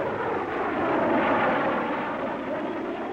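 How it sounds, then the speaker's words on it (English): Low-level reconnaissance planes roar past at near treetop level over Cuba, a steady, loud, broadband engine rush that swells slightly in the middle and holds throughout, with no voices. "Low-level reconnaissance planes at near treetop level surprise the Cuban anti-aircraft crews"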